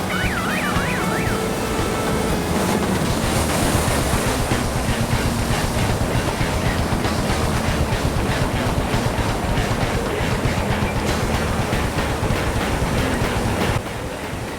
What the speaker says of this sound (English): Eric Peterson, Brad Caldwell, and Tom Fish were quick to grab the first set of waves